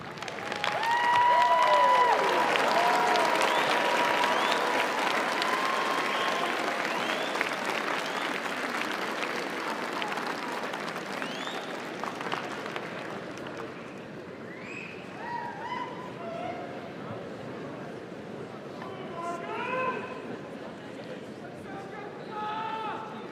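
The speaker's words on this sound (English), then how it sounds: "So graduates, let's stand and give them a big round of applause to those who have supported your arrival here today" A commencement audience of graduates and guests applauds families and friends in sustained clapping that starts loud and full, then slowly thins and fades, with scattered cheers.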